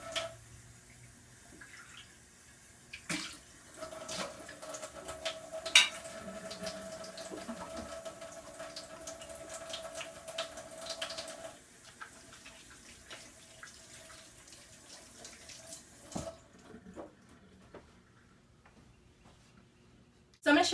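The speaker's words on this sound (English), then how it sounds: "rinse all the supplies just to make sure that it's all clean" Tap water running in a sink while cooking supplies are rinsed, a faint steady splash that rises for several seconds, then drops away to quiet handling and a few knocks, with speech at times.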